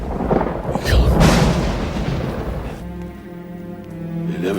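Loud rolling thunder from a lightning strike in the film Judge Dredd, a heavy rumbling crash that swells and slowly fades, then gives way to a sustained musical score.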